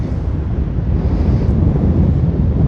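Strong gusts buffet the microphone at Waimanalo beach, a loud, constant low roar with no pauses and no voices.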